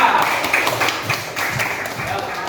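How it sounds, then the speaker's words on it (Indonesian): Students in a primary school classroom clap for a group that has just presented its discussion, a steady run of light claps under a teacher's voice. "Berikan tepuk tangan untuk kelompok 4"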